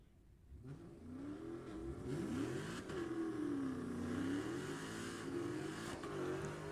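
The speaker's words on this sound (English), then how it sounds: "your modern muscle car final round coming at you" Modern muscle car engine, such as a 2019 Dodge Challenger, revving in the final round of a drag race, a loud sustained roar with rising and falling pitch that swells after a quieter start.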